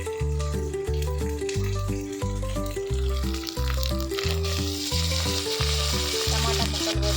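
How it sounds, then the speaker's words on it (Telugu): Tomato pieces fry in a pan for a ridge gourd mutton curry, a steady close sizzle over continuous music with a rhythmic beat and no talking. "టమాటా ముక్కలు బాగా మెత్తగా అయ్యే వరకు ఫ్రై చేసుకుందామండి"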